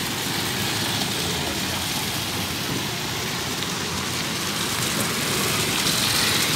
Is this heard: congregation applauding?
no